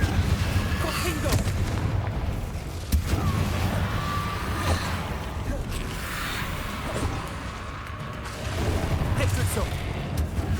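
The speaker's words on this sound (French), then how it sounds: "Confringo." Confringo fire spells cast in the Hogwarts Legacy video game, heard as repeated booming blasts and crackling impacts over a dense, continuous combat soundscape, with occasional voice lines.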